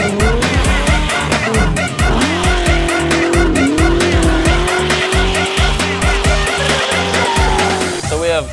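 Race cars run hard on a dusty dirt track, with loud engines revving and rising in pitch over a constant pounding rhythm, plus tire squeal and skidding close by.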